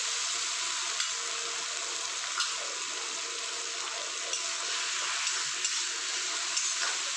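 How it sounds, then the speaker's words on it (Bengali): Tomato, ginger-garlic paste and spices frying in a pan for chana dal, a steady hiss of sizzling with faint scraping taps from stirring, close and continuous without talk. "এখানে এক মিনিট একটু নাড়াচাড়া করে নিই তারপর আমি গুঁড়ো মশলাগুলো দেবো"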